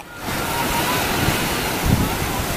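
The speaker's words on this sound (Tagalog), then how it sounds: "Lakas ng alon eh." Steady roar of ocean surf crashing, loud and continuous, with wind buffeting the microphone and a couple of heavier wave surges.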